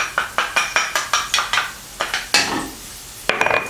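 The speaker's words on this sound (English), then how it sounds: "Sauté until aromatic." Scallion, ginger and garlic sauté in melted butter in a saucepan, a spoon scraping and clinking against the pan in quick regular strokes over a soft sizzle, close and fairly loud.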